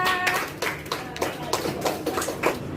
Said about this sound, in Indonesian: Beri aplaus untuk temannya bertiga